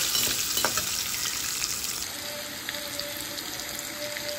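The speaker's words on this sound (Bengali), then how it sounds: "আলুগুলি লাল করে ভেজে নেব" Oil sizzles and crackles steadily as potatoes fry, a bright hiss close by with occasional stirring clinks, easing slightly after the first couple of seconds.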